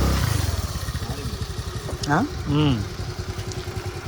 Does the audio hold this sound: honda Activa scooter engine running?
yes